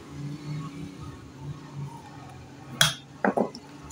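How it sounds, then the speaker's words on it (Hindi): Milk and yeast are stirred together in a bowl while making buns: soft low scraping throughout, then a few sharp clinks of a utensil against the bowl near the end. "अब मैंने बाउल में दूध शामिल किया है और अब ईस्ट शामिल करूंगी, हल्का सा मिक्स करूंगी"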